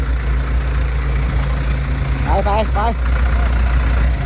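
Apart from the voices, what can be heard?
excavator engine running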